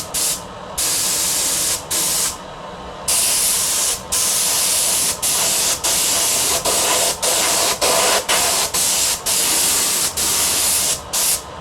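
Spray paint goes onto the top of a rebuilt Komatsu PC60-5 excavator engine, heard as loud, close hissing bursts that start and stop in an uneven rhythm with short pauses between them.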